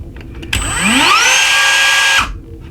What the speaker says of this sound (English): This is my trusty cordless Dremel that I used.